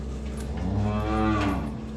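Calves moo continuously in a barn freshly laid with bedding, a loud, drawn-out bovine call rising and falling across the whole stretch, with no talking.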